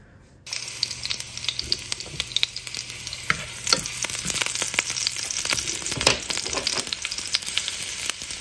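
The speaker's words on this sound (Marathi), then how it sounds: "तेल तापलं की लसूण आणि मिरची याच्यामध्ये टाकूयात." Garlic and chili drop into hot oil and fry with a loud, steady crackling sizzle, close up, with occasional sharper pops and stirring scrapes and no talking.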